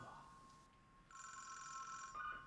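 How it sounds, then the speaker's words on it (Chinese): A telephone rings faintly in an indoor scene, a thin tone that first sounds steady and then breaks into warbling bursts, low in level. "别管他电话哪响，电话哪响"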